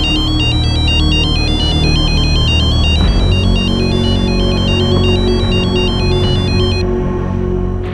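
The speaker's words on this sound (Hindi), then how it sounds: "अरे कोई कांति को फिर से फोन लगा दो, मैं बात करूंगी।" A phone ringtone plays continuously, a bright repeating electronic melody over a dense background hum, steady and fairly loud throughout.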